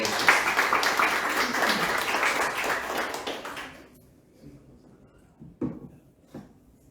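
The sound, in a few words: audience applause for Rafael Simón Torres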